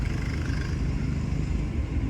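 Steady low engine rumble and road noise of a car driving at night, continuous and fairly close throughout with no talk.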